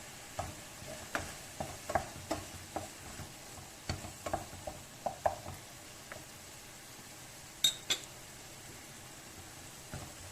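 Tomatoes and peppers sauté quietly in butter in a pan for a vegetable bulgur pilaf, giving a faint, low sizzle broken by a run of soft, irregular ticks and taps from stirring.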